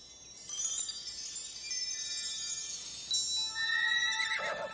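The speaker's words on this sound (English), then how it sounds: "I heard the horse neigh." A horse neighs loudly and at length, a high shrill whinny that wavers and falls away, with no other sounds around it.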